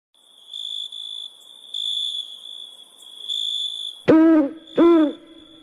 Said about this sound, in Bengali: যে রাতে আমার বাগানের চাঁপা গাছের ডাল থেকে শাঁস শাঁস করে কালো পেঁচাটা ডেকে ওঠে